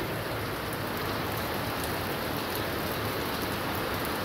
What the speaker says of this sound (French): C'est des fortes chutes de pluie.